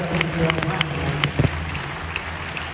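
Crowd applause for wrestlers at an Oklahoma State wrestling match in an arena, a steady patter of clapping with a few louder claps, under an announcer's amplified voice.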